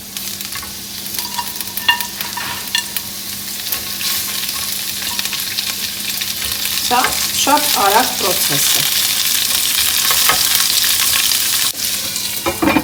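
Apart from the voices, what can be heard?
beans frying and being stirred in vegetable oil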